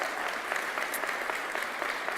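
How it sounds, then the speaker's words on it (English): A commencement audience for a sports product management program in Portland gives Rashad Williams a round of applause, with a steady, dense wash of clapping from many hands that stays even and fairly close throughout. "Give him a round of applause."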